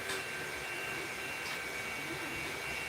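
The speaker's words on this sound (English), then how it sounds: "She didn't want anything to do with that vacuum running." A household vacuum cleaner runs close by in a home, a steady broadband whoosh with an even drone that holds without a break.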